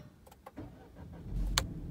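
A Peugeot 2008 with a 1.2-litre petrol engine starts up: a few faint starter clicks and whirrs, then the engine catches with a brief louder burst and settles into a low idle, heard close and without talk.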